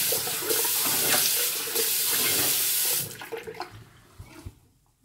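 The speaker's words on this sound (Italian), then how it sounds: "Sciacquiamo il viso con acqua fredda" Cold tap water runs steadily from a faucet into a sink while a face is rinsed after a shave, a constant splashing rush for about three seconds before it cuts off and gives way to a few scattered drips and handling sounds.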